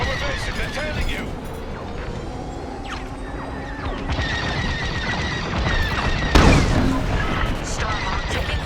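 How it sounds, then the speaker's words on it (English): Starfighter laser weapons fire striking the Starhawk capital ship in the Star Wars Squadrons space-combat game, a dense stream of zaps and impacts over engine roar with a heavy crash near the end, under radio chatter. "Starhawk taking fire"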